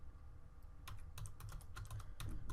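Quick bursts of typing on a computer keyboard, close and fairly quiet, with irregular clusters of key clicks speeding up toward the end and no voices.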